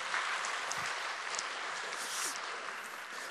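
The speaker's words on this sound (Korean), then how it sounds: "박수 한번 쳐줄까요?" A church congregation applauds together during a Sunday worship service, a steady, dense wash of many hands clapping that stays even for a few seconds without spoken words.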